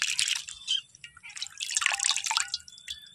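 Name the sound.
washing sliced potatoes in water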